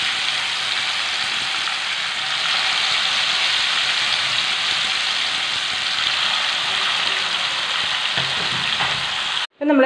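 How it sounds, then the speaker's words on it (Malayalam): Chicken pieces deep-fry in hot oil with a loud, even, bubbling hiss that runs unbroken and close-up, then stops abruptly just before the end. "നമ്മൾ ചിക്കൻ മുഴുവനായിട്ട് ഫ്രൈ ചെയ്തെടുത്തിട്ടുണ്ട്"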